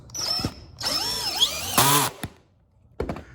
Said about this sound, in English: Then we're gonna go ahead and screw in our 1 1/4 inch screws.